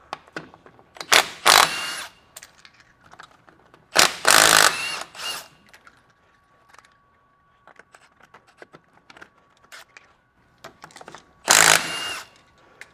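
A power tool, likely an impact gun, spins lug nuts off a wheel in three short loud bursts, with quieter rattles and handling clinks between them, close up and with no talk.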